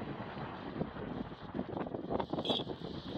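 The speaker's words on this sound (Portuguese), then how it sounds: "O vento se intensifica, realmente é" A strong, cold wind gusts over the seashore at Bico da Pedra in Imbé, where cast-net fishermen work the water. It comes as a steady, loud roar buffeting the microphone with rising gusts, and no one speaks.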